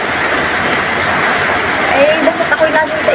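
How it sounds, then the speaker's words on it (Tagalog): Heavy rain falling in a loud, continuous wash of noise, steady and close, with a faint voice briefly audible beneath it near the end. "dito man lang ay sobrang ng ulan, sobrang lakas"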